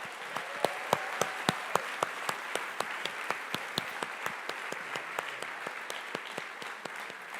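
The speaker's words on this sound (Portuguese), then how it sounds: "Vamos dar mais uma forte salva de palmas?" A church congregation claps in unison, a fast, regular rhythmic beat of sharp claps over a bed of broad crowd applause, moderately distant and steady.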